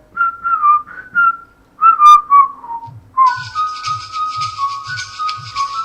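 A person whistles a short melodic phrase of several notes to trigger a phone-finder app on an Android tablet, pauses, then whistles again while a soft rhythmic thumping runs underneath.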